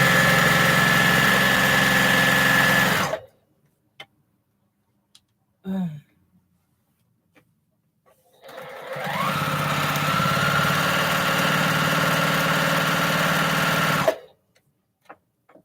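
Sewing machine with a quarter-inch presser foot stitching a quilt seam at steady speed, running in two sustained bursts of about three and six seconds separated by near silence and a brief handling clatter.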